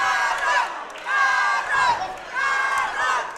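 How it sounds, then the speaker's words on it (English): Boxing arena crowd cheering and shouting during a fight, loud swelling waves of voices that rise and fall in three surges. "As the crowd now getting behind him."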